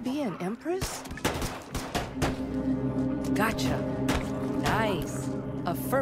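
Sniper units fire in They Are Billions on an 800% Apocalypse campaign map: a rapid series of sharp gunshot cracks in the game mix, heard under continuous talk throughout.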